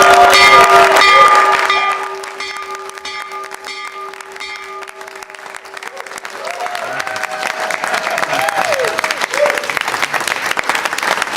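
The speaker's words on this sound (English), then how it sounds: "So ring the bell, Mr. President." A stock market opening bell rings out with steady tones over loud applause, the clapping fading briefly before swelling again into sustained crowd cheering and clapping.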